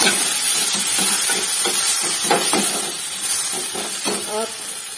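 Chopped tomatoes fry loudly in hot oil, a dense steady sizzle with repeated scraping stirs from a spoon working through the pan, close and continuous throughout.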